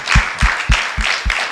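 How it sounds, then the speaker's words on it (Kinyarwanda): Rhythmic congregational clapping at a church service, five strong unison claps landing at an even beat, each a sharp broadband burst with a short ring after it, close and loud. "twikomera amashyi natwe"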